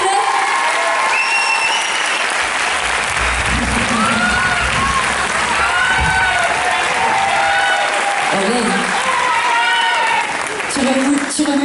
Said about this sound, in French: que j'aimerais qu'on applaudisse bien fort